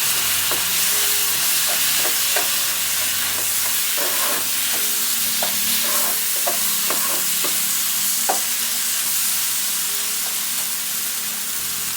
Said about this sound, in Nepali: एड गर्दैछु यो ग्रेट गरेको टमाटर